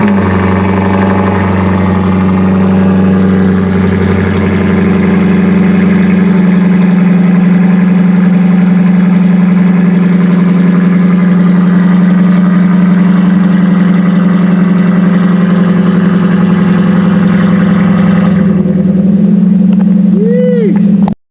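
A Chevrolet Corvette C7 engine idles steadily after a cold start, a loud constant low rumble with a strong drone throughout, near and sustained with little change in revs.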